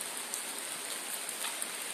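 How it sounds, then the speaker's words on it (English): Heavy rain pours down steadily, a dense continuous hiss of drops on surfaces with a few sharper spatters, close and fairly quiet, with no voices. "it's kind of raining like really, really bad"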